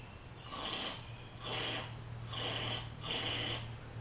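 Carburetor cleaner sprayed through the carburetor of a Craftsman M100 push mower, four close hissing bursts about a second each with short gaps between them.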